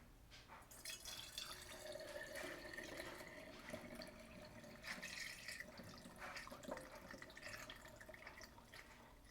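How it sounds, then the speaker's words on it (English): Homemade elderberry syrup poured from a container into a bottle, a soft trickling and dripping of liquid that comes and goes in small surges over several seconds, fairly quiet, with no talking. "I'm just going to pour 1 bottle for you so that you can see how it looks going in."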